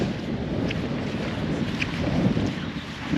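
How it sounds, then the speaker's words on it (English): Wind buffets the microphone with a constant low rumble and gusty swells, loud and uneven, with no voices. "oh, it's a bit windy. Hope you can hear us all right."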